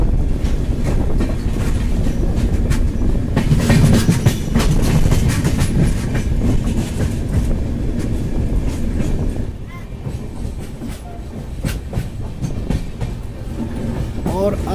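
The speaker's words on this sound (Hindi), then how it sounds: "आप देख रहे हैं ट्रेन का डिपार्चर अनूपपुर स्टेशन से।" The 18202 Nautanwa Durg Express departs Anuppur station with a loud, steady rumble and rhythmic clickety-clack of wheels over rail joints, mixed with wind buffeting the microphone.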